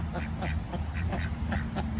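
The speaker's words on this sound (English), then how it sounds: "I see the ducks over here" Several ducks quack repeatedly at a moderate distance over a steady low background rumble.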